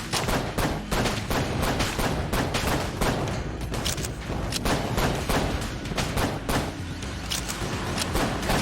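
Constant rapid gunfire from the video game Enter the Gungeon, a dense, loud barrage of overlapping shots and blasts that never lets up.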